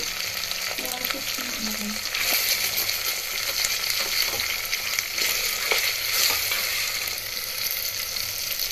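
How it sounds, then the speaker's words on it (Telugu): Chopped tomatoes stirred into a hot frying pan for coconut milk pulao, giving a steady close sizzle with scraping and stirring sounds throughout and no talking. "ఇప్పుడు ఇందులోనే కట్ చేసుకున్న ఒక 2 టమాటాలు వేసుకోవాలి. ఒకసారి బాగా కలుపుకోవాలి."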